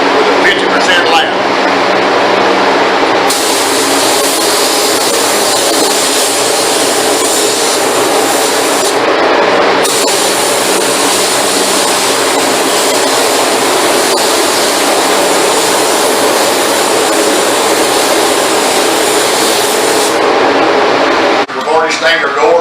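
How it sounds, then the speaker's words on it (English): A spray gun lays finish onto wood inside a spray booth, giving a loud, steady hiss that runs almost continuously, with a short break partway through and a stop just before the end. "Now we're in the booth, preparing to spray."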